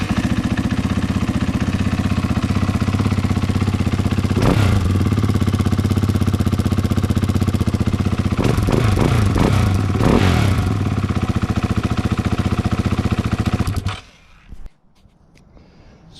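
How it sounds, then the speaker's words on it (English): A 2022 KTM 500 EXC-F dirt bike running its stock exhaust and stock ECU, loud and close, idling steadily with a few sharp throttle blips in the middle before the engine cuts off near the end. "here's what the stock exhaust sounds like"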